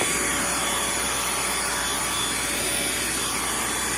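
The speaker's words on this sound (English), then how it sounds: "And vacuum away." A Bissell Featherweight stick vacuum, used as a handheld with its crevice tool, runs with a steady, loud whirring hiss that does not change, close by and with no talking.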